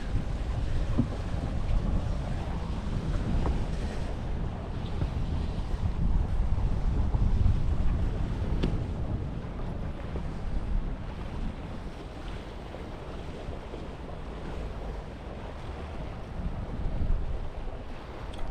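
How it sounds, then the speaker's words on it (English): A small dinghy towed behind a sailboat with its engine off, giving a steady wash of water and wind noise with faint splashing, continuous and fairly soft with no talking. "The only thing we hear now is the dinghy."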